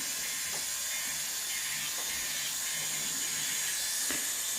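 An electric nail drill with a cuticle bit works gently around the sidewalls and cuticle area of a fingernail during a builder gel infill, giving a steady, close, high-pitched whine with faint periodic ticks.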